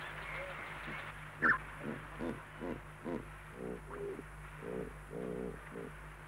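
Birds call with repeated cooing, dove-like notes in a Cameroon wildlife park, a steady series of soft pulses at moderate distance with a faint background hum and no speech over them.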